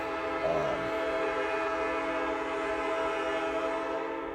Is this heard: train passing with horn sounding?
yes